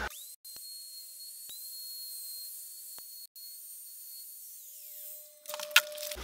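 A handheld router spins at a steady, thin high whine while it cuts a wooden electric guitar body blank, with a couple of brief dropouts and a rougher, louder burst right at the end.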